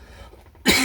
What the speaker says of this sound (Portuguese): Hoje eu estou meio uma alergia, uma tosse alérgica aqui, está me perturbando um pouco